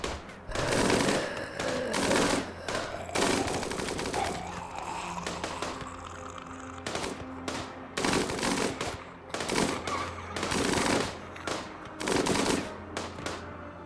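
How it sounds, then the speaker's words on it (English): Minigun firing in RimWorld: repeated bursts of rapid, buzzing automatic fire, each lasting about half a second to a second, separated by short pauses over a low mechanical hum, moderately loud and without talking. "Love the sound of the minigun."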